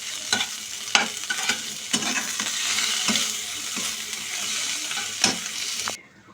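Eggplant for a mashed eggplant dish frying in a pan sizzles steadily, broken by repeated scraping strokes of a spatula stirring, then the sizzle cuts off at the end.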